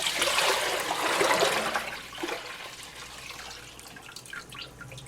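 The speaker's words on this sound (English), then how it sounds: "So let's dump that out." Cleaner-degreaser liquid is dumped out of a container, a rushing pour for about two seconds that fades into softer trickling and dripping as it drains.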